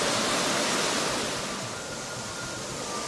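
Heavy water crashing down a waterfall swollen by continuous rain, a loud, steady, broadband roar that fills the whole clip without a break, close and with no voices.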